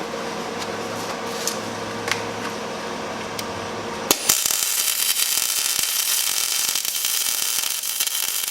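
Welding inside the slot of a Jeep TJ Wrangler steering box reinforcement plate on the frame: a steady background hum gives way midway to a loud, continuous, close crackling hiss that runs to the end.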